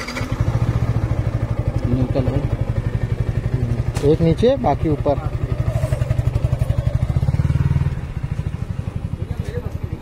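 A Yamaha R15 V4 motorcycle engine idles close by with a steady, throbbing single-cylinder putter, then revs and pulls away; people talk over it throughout.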